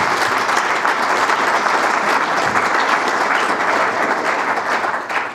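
An audience at a Keizer city State of the City address claps and cheers loudly, a dense, steady wave of applause that holds at full strength and then cuts off abruptly at the end.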